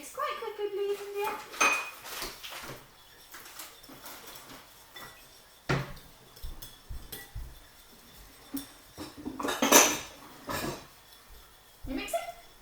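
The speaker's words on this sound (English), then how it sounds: "We're just using a spoon to mix it." A spoon stirring flour, water and sugar in a bowl, irregular scrapes and clinks against the bowl in uneven bursts, with people talking at times in between.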